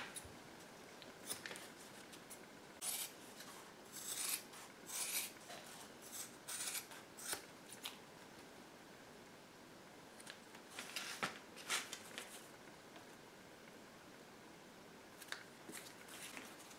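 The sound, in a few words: trimming the oversized underside of a DIY archery arm guard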